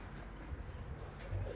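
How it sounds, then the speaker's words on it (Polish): Pigeons cooing in a loft during the day, soft low coos repeating faintly with light shuffling and ambient noise around them. "Gołębie chodzą"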